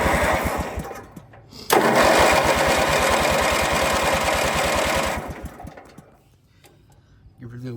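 A vintage rat rod lawn mower engine cranks, catches and runs with a fast, loud putter for a few seconds before dying down; someone speaks over the end.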